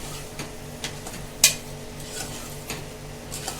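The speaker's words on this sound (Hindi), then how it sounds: "और इसको अच्छे से मिक्स कर लेते हैं।" A spoon stirs taro (arbi) with masala in a pressure cooker, giving a soft steady scraping with a few sharp metallic clinks against the pot, and no one talking.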